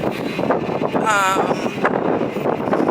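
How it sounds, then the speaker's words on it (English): Outdoors in London, wind buffets the microphone in loud, uneven rumbling gusts while someone talks over it. "oh my god, the wind is so bad"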